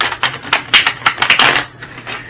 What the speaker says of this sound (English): I'm just going to shuffle these cards